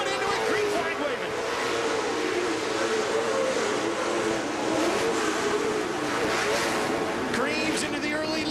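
Off-road race trucks accelerate together at the green flag on the Eldora Speedway dirt oval. A dense, continuous roar of revving engines fills the air under a commentator's excited voice.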